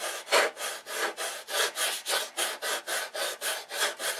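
Hand sanding with 80 grit sandpaper on a fuselage part, about a dozen rhythmic back-and-forth rasping strokes at an even pace, close and clear with no talking.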